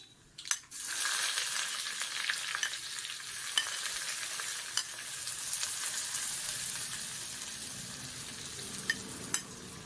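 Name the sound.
onion frying and sizzling in pan with tempering spices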